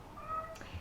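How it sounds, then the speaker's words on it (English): A single short meow from a cat, faint and slightly distant, over quiet room tone. "sorry, that was my cat"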